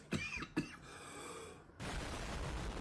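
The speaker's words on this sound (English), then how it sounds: "After my coughing fit" A person coughs twice in sharp bursts, then a sigh-like breath follows, and a broad rushing noise takes over for the last second.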